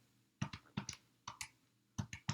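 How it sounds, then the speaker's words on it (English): Keystrokes on a computer keyboard as a number is entered, arriving as a few close pairs of crisp clicks separated by short pauses, near and fairly quiet with no talk. "So I'm typing in the 5"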